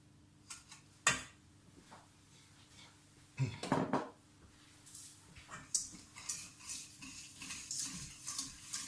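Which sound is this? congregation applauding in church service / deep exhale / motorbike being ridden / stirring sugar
stirring sugar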